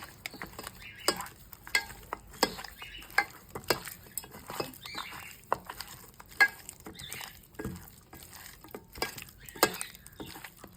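Chicken being stirred by hand with salt, chili powder, garam masala and vinegar for a Kerala fried chicken curry, giving soft wet squelching and patting sounds in irregular bursts, close and fairly quiet, with no talking.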